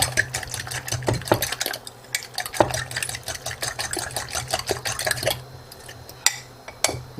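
Eggs are whisked in a bowl for a frittata omelette with about a tablespoon of finely chopped ingredient: rapid, steady clicking and tapping of a whisk against the bowl, close and continuous, slowing slightly near the end, with no talking.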